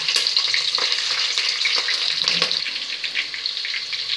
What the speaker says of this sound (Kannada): ಹಸಿಮೆಣಸಿನ್ಕಾಯಿ ಫ್ರೈ ಆಗ್ತಿದೆ.